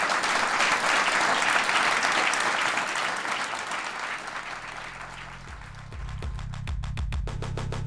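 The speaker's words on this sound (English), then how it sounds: "Everybody, give a round of applause for Sarah." Audience applause for a guest at a live taping of a political talk show, a dense, loud burst of clapping that eases slightly, with low sustained tones entering under it near the end.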